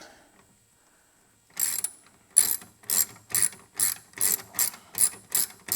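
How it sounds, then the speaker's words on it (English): A ratchet tightens a bolt on the inner fairing of a 2022 Harley-Davidson Road Glide, giving about nine close, crisp clicking strokes at an even rhythm after a quiet start. "This one feels a little tight, so I'm going to use the ratchet."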